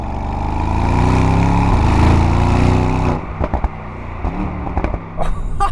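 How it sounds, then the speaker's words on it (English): Mercedes-AMG GT V8 engine, loud and close, holds a deep, steady rumble for about three seconds, then drops to a burbling idle broken by short, sharp pops and blips. "Just the noise of that V8."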